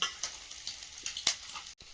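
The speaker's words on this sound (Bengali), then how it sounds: "মাছ ভাজা হয়ে এসছে" Fish frying in a pan gives a close, steady sizzle with brief crackling pops and a short cut near the end.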